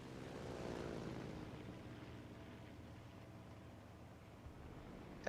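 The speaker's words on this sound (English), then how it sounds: "Oh, here comes the plane." A plane in a video game approaches as a low, droning engine hum that swells early and then holds steady over a faint rumble, with a soft click near the end.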